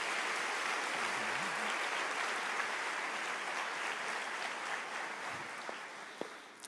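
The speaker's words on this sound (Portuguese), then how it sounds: "Você pode aplaudir o Senhor." A church congregation applauds during a sermon, a dense steady wash of clapping that holds throughout and tapers slightly near the end, with a couple of sharper claps standing out.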